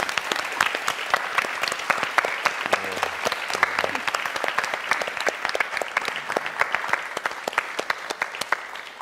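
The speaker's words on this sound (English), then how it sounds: "One more round of applause." Sustained applause from an audience, dense steady clapping throughout, moderately loud with no talking over it.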